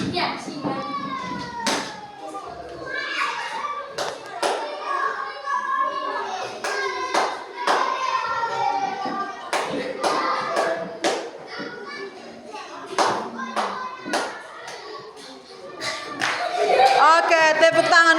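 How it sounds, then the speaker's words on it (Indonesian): Scattered claps ring out in a classroom among children's chatter and an adult voice. The bursts are short and irregular, mixed with talk and play noise throughout. "tepuk tangan dulu untuk robot yang kedua"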